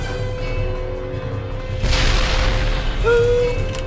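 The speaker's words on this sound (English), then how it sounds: "I loves me some explosions." Heavy explosions boom in the PC shooter Darkest of Days, with a loud broadband blast that swells and lingers amid rumbling battle noise, then a sharp tonal whine.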